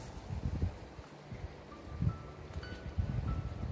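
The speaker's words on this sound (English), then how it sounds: "Nice and breezy today." Breeze blowing beside Lost Horse Creek in the mountains of Bitterroot National Forest near Darby, heard as steady soft wind rustle with low gusty rumbles on the microphone, faint and continuous throughout.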